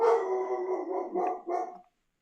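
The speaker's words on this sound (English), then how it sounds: "I want to know if the chat can hear my dog barking." A dog barks and howls close by in a few quick, drawn-out yelps that stop abruptly, heard alone without talking.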